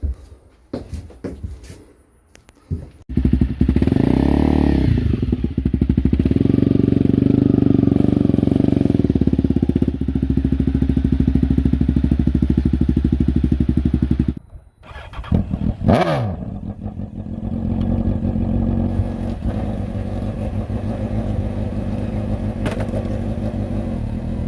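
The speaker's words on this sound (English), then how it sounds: "Alright, we got the motorcycles loaded up." Motorcycles revving and being ridden up into a 2018 Forest River Salem FSX toy hauler camper, loud close engine drone sustained for many seconds, a brief dip, then more steady engine noise.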